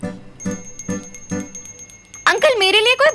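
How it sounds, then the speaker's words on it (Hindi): An older man rings a hand bell during a puja at a shop, giving four regular, ringing strokes. Loud talk begins near the end and covers the last strokes. "अंकल जिस स्टाइल से घंटी बजा रहे हैं"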